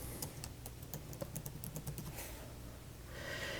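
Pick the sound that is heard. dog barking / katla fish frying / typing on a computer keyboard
typing on a computer keyboard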